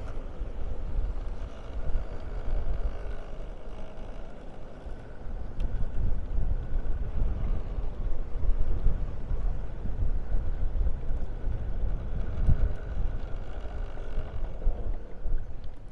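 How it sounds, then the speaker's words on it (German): Strong wind by the water on Gran Canaria buffets the microphone in a steady low roar with gusty swells throughout, loud and close, with no voices. "Ja, ganz schön viel Wind hier"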